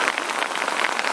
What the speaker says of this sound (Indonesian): Hujan terus.